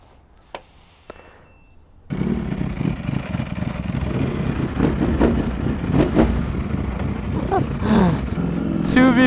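After a quiet start with a few small knocks, a V4R motorcycle engine fires up and revs, rumbling loudly and rising in intensity while people talk over it.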